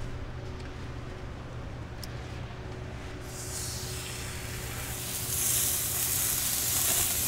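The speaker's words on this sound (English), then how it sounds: "you get that sizzle" Bison sliders laid on an oiled grill give a steady hiss of sizzling that swells louder toward the end, close up with no talk over it.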